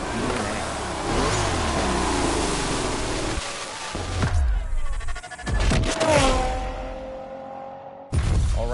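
A Porsche 911 driven in The Crew Motorfest, its engine loudly revving and accelerating through rising gear sweeps, with brief drops and a sudden cut before the engine roars back near the end.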